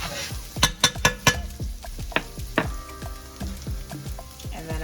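Coconut curry prawns sizzling in a frying pan while being stirred, with a steady close crackle and sizzle broken by a few sharp clacks of the utensil against the pan, no talking.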